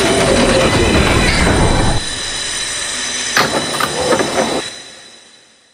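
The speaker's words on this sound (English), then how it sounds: "There is a local train approaching the station." A train arriving at a station platform rumbles and rattles loudly, wheels squealing, then slows with clattering bursts before fading as it comes to a stop.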